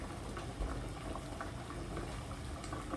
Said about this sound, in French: maintenant ça y est, l'eau est en train de bouillir